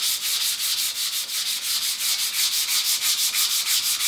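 Hand sanding a waterborne finish with 150 grit sandpaper, a close, steady series of rhythmic rasping strokes, roughly five per second, with no voices.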